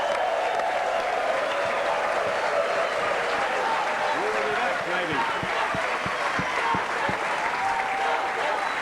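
A studio audience at a televised football show gives sustained, dense applause, with steady clapping throughout and a voice speaking over it.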